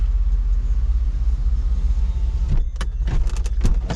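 Chevrolet Monte Carlo SS engine idles with a steady low rumble inside the car, followed by a few sharp clicks and rattles near the end.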